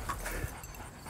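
A dog whimpers briefly, a faint, soft whine in a quiet night setting, heard alone without talk.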